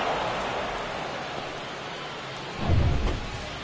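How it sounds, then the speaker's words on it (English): Steady heavy rain hisses throughout a rainy MLB24 baseball game, with a deep, loud thunder rumble swelling near the end; no voices are heard. "We'll see how well the field holds up with the way the rain is coming down."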